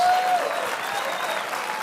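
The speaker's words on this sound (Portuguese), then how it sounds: "Quem pode dar o melhor aplauso, assovios, brados de vitória" An audience breaks into applause at a motivational church-style seminar, a dense burst of clapping mixed with a few whistles and shouts, loudest at the start and then holding steady.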